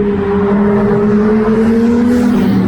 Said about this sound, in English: that Koenigsegg just came out of nowhere!